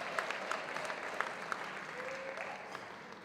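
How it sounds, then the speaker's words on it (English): A convention audience gives award winners a steady, dense round of applause in a large hall, continuing evenly at moderate loudness without talk. "One more big round of applause for all the winners"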